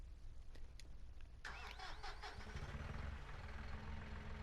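In Farming Simulator 19, a small tractor engine cranks over briefly and then catches, settling into a steady low idle with a light diesel-like rumble, heard alone at a quiet level.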